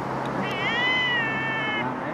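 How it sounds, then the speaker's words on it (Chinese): A single drawn-out, clear meow from a friendly cat, close and fairly loud, lasting about one and a half seconds over light background noise. "有一只 亲人猫"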